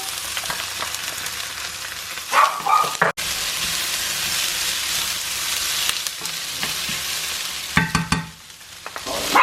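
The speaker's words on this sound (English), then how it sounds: "Just adding the garlic and the ginger." Garlic and ginger sizzling in a pan with shallots and peppers, a steady loud frying hiss with brief clatters of stirring and a short dip in the middle.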